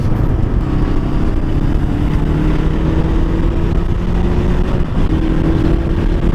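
Bristol Veloce 500 motorcycle engine pulling hard on a road test ride, a loud steady drone with a slowly rising tone as it gains speed, wind rushing over it, no talking.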